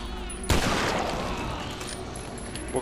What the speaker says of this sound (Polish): Jeden strzał, dwa trupy, to mi się podoba.